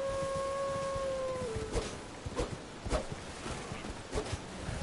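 Wolves in the video game Elden Ring let out a drawn, falling howl that fades after about a second and a half. Scattered thuds of footsteps and hooves follow over steady game ambience.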